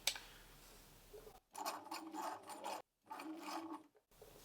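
Bernina 1008 sewing machine stitching the zigzag side of a buttonhole, quiet rapid mechanical chatter in two bursts of about a second and a half each, separated by brief silences, with no talking.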